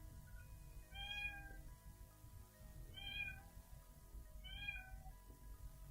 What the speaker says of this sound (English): food bowl is halfway empty, crying of hunger, cat meows.